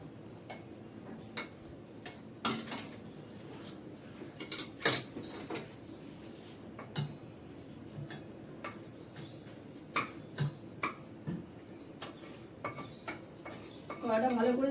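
Metal pots, pans and utensils clink and clatter in a kitchen as a pan comes off the stove, a series of sharp knocks and scrapes spread through a quiet room.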